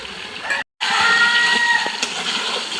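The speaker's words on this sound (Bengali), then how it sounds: "আদা রসুন ধোয়া জলটাও দিয়ে দেবো।" Ginger-garlic washing water is poured into a pot of braising beef kosha, making a steady, fairly loud rushing splash. The sound cuts out for a brief moment, then continues without any talk.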